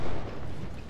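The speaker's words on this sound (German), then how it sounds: "Kanonenfeuer" Cannon fire in the Civil War strategy game Ultimate General: Civil War: a loud, booming burst that quickly fades into a broad, rumbling roar within a second, with no voices over it.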